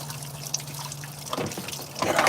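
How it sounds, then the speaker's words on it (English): Fluid trickles and dribbles from a loose hose on a Kenworth truck's reservoir bottle, a soft uneven drip and pour that swells briefly mid-way and again toward the end. "It's draining again."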